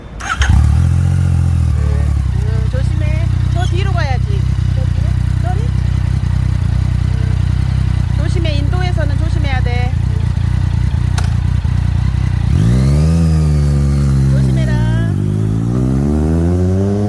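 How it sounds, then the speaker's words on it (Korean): A motorcycle engine runs loudly and continuously nearby, rising in pitch as it revs near the end, with people talking over it. "오토바이 소리가 여기까지 들리는 것 같으네"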